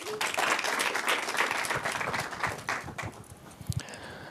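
A tech meetup audience at Google in New York City claps in a dense burst of applause that gradually thins out toward the end.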